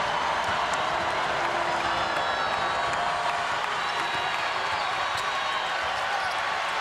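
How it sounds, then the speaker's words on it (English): A home crowd at a UConn women's basketball game against Creighton roars in a steady, dense wall of cheering and applause that fills the arena from start to finish, with faint bounces and squeaks beneath. "listen to the Gamble crowd"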